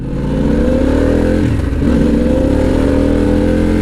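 A Harley-Davidson Pan America motorcycle fitted with a prototype Stealth exhaust revs loudly up close, its deep rumbling idle lifting into a brief throttle blip around the middle before settling into a strong steady drone.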